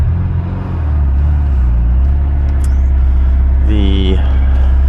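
A Ferrari 348 pulls away in first gear with a cold transmission, its engine giving a loud, close low rumble that rises into a brief rev partway through.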